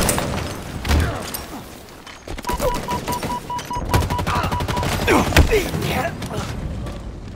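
Rapid automatic gunfire in Halo Infinite, with loud bursts of shots, a booming impact and mechanical clatter, and a game voice speaking briefly over the fire.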